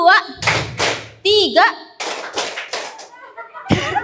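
A group of children clapping in a counting clap game, sharp bursts of hand claps and thuds alternating with an adult's voice giving calls and someone speaking.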